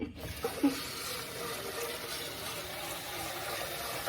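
Water running over rice in a kitchen to rinse it, a steady hissing flow with a few small splashes near the start and no talking.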